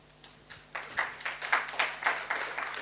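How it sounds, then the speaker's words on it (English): An audience at an openSUSE conference talk claps, starting with a few scattered claps and swelling into a brief round of applause in a room. "come on, clap for him"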